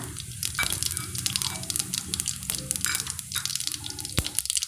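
Mustard seeds and cumin dropped into hot oil for a green peas kurma crackle and sizzle continuously, with dense sharp pops and a few louder spits.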